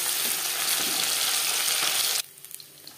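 Bata fish frying in a hot kadai, a dense, loud, close sizzle that stops abruptly near the end, leaving faint clicks.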